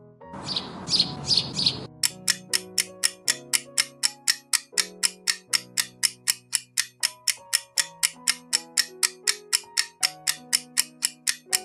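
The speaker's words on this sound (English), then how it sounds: "This is sparrow." A sparrow lets out a quick cluster of sharp, high chirps for about two seconds, then gives way to steady ticking, clock-like music with soft low notes.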